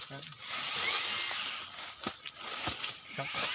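A battery-powered saw buzzes close by, cutting branches from a durian tree after harvest, its whine fading as someone talks over the later part.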